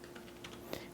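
Quiet keystrokes on a computer keyboard as a pip install command is typed, a few light, separate clicks over a soft background hiss.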